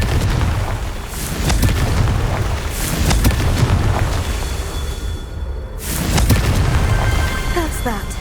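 Repeated Confringo fire-blast spells boom and burst in Hogwarts Legacy gameplay, a loud run of explosive impacts with whooshes during a duel, while a voice speaks over the fighting.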